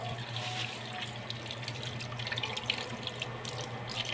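Okra being rinsed under a running kitchen tap, a steady broadband rush of water with small splashy fluctuations, fairly close and continuous, with no one talking.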